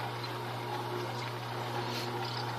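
Tribest Slowstar vertical slow juicer pressing lemon, a steady low motor hum with faint wet trickling and crunching, continuous and close.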